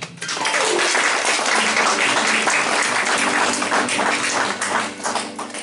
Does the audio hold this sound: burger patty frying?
no